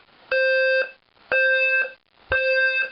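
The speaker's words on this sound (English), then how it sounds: "Voice evacuation. This one's really quiet for some reason." A fire alarm evacuation system under test sounds three loud, identical electronic tones, each about half a second long, separated by short gaps, with no voice heard.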